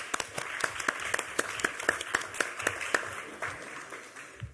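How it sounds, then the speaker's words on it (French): A council meeting audience in Riom applauds after a speech, with fairly faint, steady clapping and distinct individual claps that thin out toward the end. "Je crois qu'on peut applaudir votre intervention."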